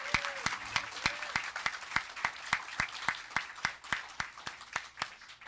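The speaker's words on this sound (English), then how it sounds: "let's give one big round of applause" Audience members clap for honorees at a school board meeting, a sparse, distinct patter of individual hand claps with a rhythm that thins out toward the end, moderately close.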